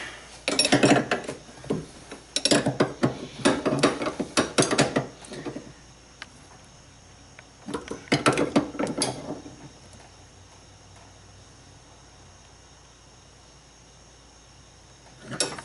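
A ratchet tightening down an A/C line fitting at the evaporator, giving bursts of quick clicking and metallic handling noise in two clusters early on, then a long quiet stretch of faint background hum.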